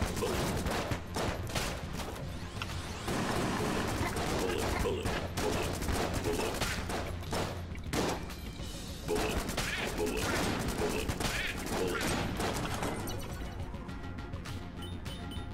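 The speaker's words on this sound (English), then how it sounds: "I will shoot them with all the bullets." Rapid, dense gunfire from bullets in the game Enter the Gungeon, loud and nearly continuous bursts of shots and impacts for about fifteen seconds, with occasional talk under the din.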